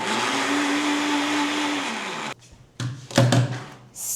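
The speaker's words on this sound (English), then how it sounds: "It says I'm supposed to put it in the blender." A kitchen blender whirs loudly and steadily for about two seconds, then cuts off, followed by a few clattering thunks and handling noises as the jar is moved.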